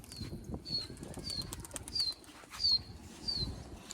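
A flock of pigeons takes flight with soft, repeated wing flapping. Faint high whistles and chirps sound over a low background rumble, fairly quiet and at a moderate distance.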